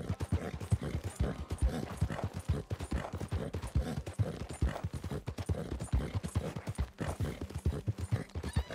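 Horse hooves clip-clop in a steady galloping rhythm in Red Dead Redemption 2, quiet and continuous throughout, with no talking over them.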